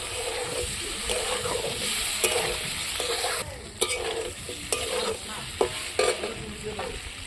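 Mixed vegetables stir-fried in a pan, sizzling steadily with repeated scraping and clanking strokes of a spatula stirring them, several sharper knocks standing out toward the end.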